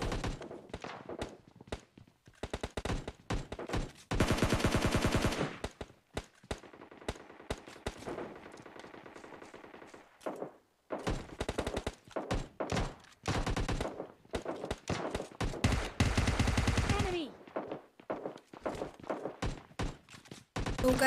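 Bursts of UMP45 submachine gunfire in the PUBG video game, several rapid volleys and scattered single shots separated by short pauses, loud and close.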